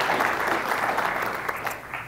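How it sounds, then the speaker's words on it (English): Audience applause at a journalism panel event on race, a steady wash of many hands clapping throughout, fairly loud and close, with no voices over it. "let's give everybody a round of applause for being here"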